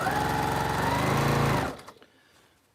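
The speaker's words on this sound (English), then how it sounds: "when you've run out of hands, fingers, toes, noses, to guide your fabric through the machine" A sewing machine runs fast and steady through quilt fabric in a continuous close whir for about a second and a half, then stops, leaving faint clicks behind.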